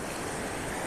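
Steady roar of ocean surf at Isle of Palms beach, broadband and constant, with wind buffeting the microphone and no voices.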